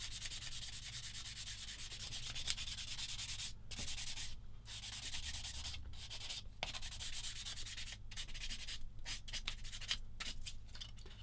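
A polishing stick rubbed over a Tamiya 1/35 SdKfz 222 plastic model kit part makes continuous close, hissy abrasive strokes with brief pauses between passes, steady and fairly quiet with no talking.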